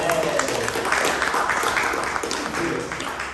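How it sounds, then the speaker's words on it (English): An audience at an exhibition discussion panel gives a round of applause, a continuous, moderately loud patter of many hands that holds steady, with a few sharper individual claps and faint voices mixed in. "let's have a round of applause"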